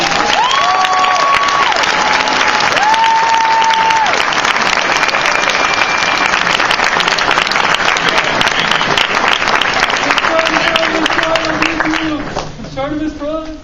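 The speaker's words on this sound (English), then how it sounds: "Our panelists, I believe, have fulfilled all their obligations. Big round of applause." A Comic-Con panel audience gives a big round of applause, sustained loud clapping and cheering from a large crowd with voices mixed in, fading away near the end.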